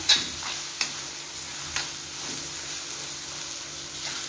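Chilli powder being stirred into a prawn masala in a pan, with a soft continuous sizzle and a few light scrapes of the spoon, close and steady with no talk.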